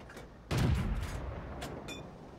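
A single loud cannon shot from an M41 Walker Bulldog tank in World of Tanks booms out abruptly, its rumbling decay trailing off over a second or more, followed by a couple of faint metallic clicks.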